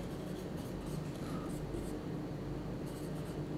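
Steady scratching of writing on a board during a solid state chemistry lecture, continuous strokes with brief breaks, close and alone with no talk.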